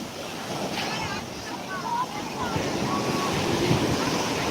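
Sea waves rolling in at high tide on Digha beach, a continuous roar of surf building in loudness, with wind rumble and faint distant voices mixed in.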